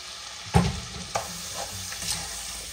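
Vegetables dropped into melted butter in a pan for a vegetable velouté, a sharp burst of sizzle and clatter as they land, then quieter sizzling with a few stirring knocks.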